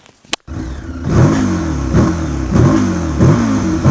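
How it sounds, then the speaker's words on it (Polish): An MBP T1002VX motorcycle engine revs up and down in repeated surges, loud and close, after a brief click at the start. "Może by tak jeszcze Wam dźwięk silnika pokazać, co?"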